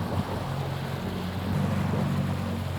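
A boat driven by a Torqeedo Travel electric outboard cruises at about 9 to 10 km/h with the wind, giving a steady low hum over continuous water wash and wind noise on the microphone.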